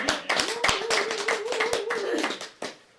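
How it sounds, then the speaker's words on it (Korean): A small audience at a Korean literary festival claps irregularly, with loose, sharp hand claps scattered over a faint sustained voice, thinning out and ending with one last clap. "네, 창성님, 네, 창성님 박수 한번 주겠습니다"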